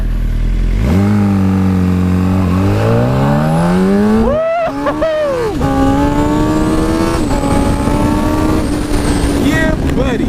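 Loud engine of an ECU-flashed 130 hp machine accelerating on a ride, pitch climbing steadily through the gears, then a brief drop and another long pull holding a high note, with wind rumble throughout.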